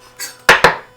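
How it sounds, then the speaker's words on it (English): A knife slicing through an onion on a cutting board, heard as two quick, loud, crisp chops in close succession after a softer brush, up close with no talking. "We're going to slice it."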